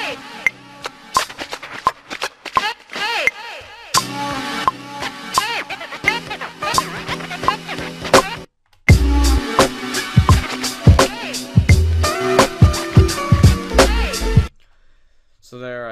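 A beat built from sampled loops on a Maschine Mikro plays an intro with punchy drum hits and chopped sample phrases, a brief gap, then a fuller, louder section with heavy bass thumps before it cuts off.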